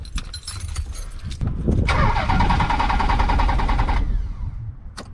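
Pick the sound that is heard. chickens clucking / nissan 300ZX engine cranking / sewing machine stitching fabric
nissan 300ZX engine cranking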